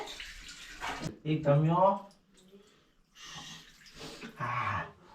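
Water splashes and pours over Harry, a Persian cat, during a bath in short bursts between stretches of close talking.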